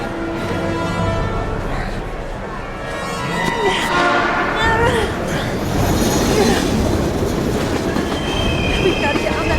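Train rolling along rails in the video game Heavy Rain: rumbling wagons, rhythmic wheel clatter and high metallic squeals of wheels on track, loud and close, swelling as it passes.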